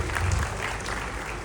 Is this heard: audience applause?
yes